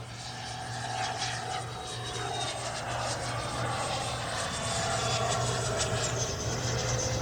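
Freewing Avanti S V2 RC jet flying after takeoff, a steady loud ducted-fan whine with a low hum that swells slightly as it passes, continuous and unbroken with no talk.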